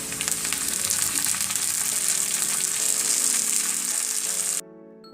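Chopped tomatoes hit hot oil in a pan and sizzle loudly and steadily for several seconds while dried fish dishes are being cooked, then the frying drops off abruptly near the end.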